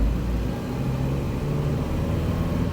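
A 1997 Nissan truck driving down the road, its engine a low, steady rumble with a gear shift partway through, close and continuous.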